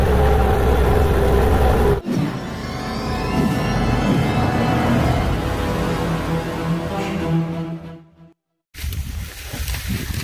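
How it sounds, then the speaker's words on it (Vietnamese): A Fiat 1000 tractor engine runs steadily at close range in a sugarcane field, a loud mid-pitched drone with a harmonic hum. It breaks off briefly, goes near silent for a moment, then resumes. "nó là động cơ."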